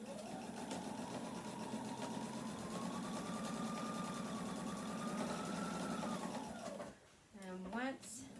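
A sewing machine runs steadily for about seven seconds with a loud, even mechanical hum, then stops, followed by brief shuffling and a short voice.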